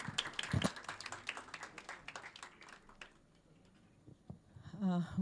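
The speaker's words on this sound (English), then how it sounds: "please welcome Dr. Padmaja Joshi on stage with a huge round of applause" An audience at a symposium claps to welcome a speaker to the stage, a faint, scattered round of applause that thins out and fades after a few seconds.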